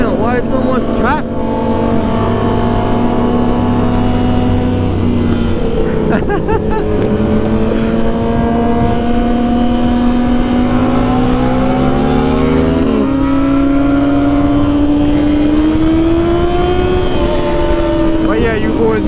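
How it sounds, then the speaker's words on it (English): Sport motorcycles including a purple Suzuki GSX-R, Yamaha R7 and R1 ride through night traffic, engines droning and rising in pitch through shifts, loud and steady with wind rush, heard close from a riding bike. "Yandy with the R7, David with the R1, and my boy with the Gsxr, baby, the purple Gsxr."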